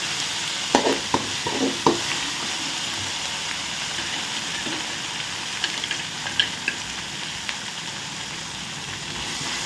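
Ginger garlic paste sizzles in oil for an egg gravy while a spoon stirs it around the pan, with a few sharp scraping clanks early on over a continuous soft frying hiss; no talking.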